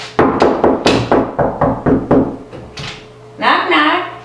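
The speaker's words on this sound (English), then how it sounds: "Knock, knock, is Judah home?" Someone raps on a door about ten times in a quick, even series of close, sharp knocks, and then a voice speaks.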